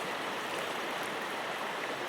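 A mountain river flows in a steady, full rush of water with no break, close and fairly loud, and no voices.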